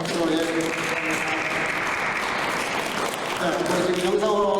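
A congregation at a Sunday service in a Korean mission church in Berlin claps in a warm, sustained round of applause, and voices can be heard speaking at the start and end.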